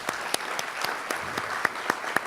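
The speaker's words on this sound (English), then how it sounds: "Please, let's take a moment to give our sponsors and partners a round of applause." An audience at the opening session of a Hawaii small business conference claps for sponsors and partners, a steady, fairly close round of applause with individual claps standing out and no talk over it.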